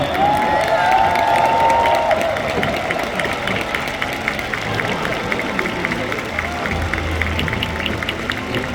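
Stadium crowd applauding and cheering for a departing football player, a dense sustained wash of clapping and crowd noise with a brief whistle-like tone early on.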